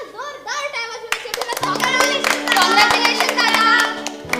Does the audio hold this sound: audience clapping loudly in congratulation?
yes